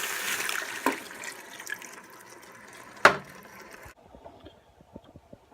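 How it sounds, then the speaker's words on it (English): Canned coconut milk pours into a curry pot for Panang curry, a soft liquid glugging with a sharp clunk partway through, then quieter dribbles and faint taps. "I'm going to add my coconut milk."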